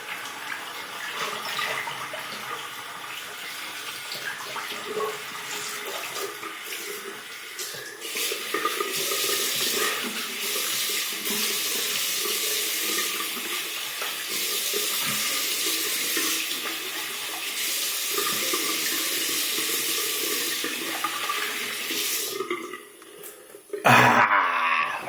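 Tap water runs steadily into a sink to rinse a Gillette Superspeed safety razor, a continuous close splashing stream lasting most of the time before a short clatter at the end.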